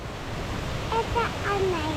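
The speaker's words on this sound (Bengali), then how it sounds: "এটা ঝর্ণা। এই যে পানি পড়তেছে, কতগুলো পানি পড়তেছে" A waterfall in Wales rushing as a steady broad wash of falling water, with a voice and an adult talking over it.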